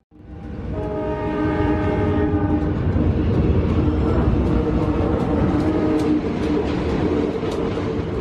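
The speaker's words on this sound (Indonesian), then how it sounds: "para pedagang maupun pembeli saling mengingatkan akan adanya kereta yang akan melintas" A train passing through a street market on tracks at a level crossing beside the stall area, its horn sounding loud and sustained over the deep, continuous rumble of the cars rolling close by.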